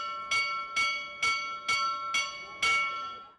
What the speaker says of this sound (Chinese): 还有很多教堂每天都会敲钟